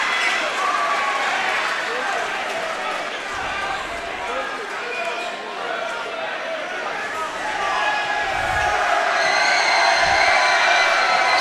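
Rowdy crowd noise fills a high school boys' basketball gym, a steady loud roar of voices and cheering with occasional low thumps, running continuously under an announcer's voice.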